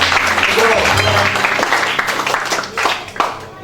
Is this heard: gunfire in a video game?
no